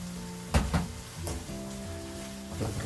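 Carrots with chili powder stirred in a pan for ghee rice with cashews, giving a steady low sizzle with a few scraping knocks of the spoon against the pan, close and fairly quiet.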